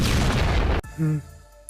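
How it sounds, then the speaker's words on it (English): A small bomb explosion in the video game Master Detective Archives: Rain Code, a loud sudden boom that breaks off abruptly, followed by a brief low rumble and tonal game sound. "That explosion was rather small."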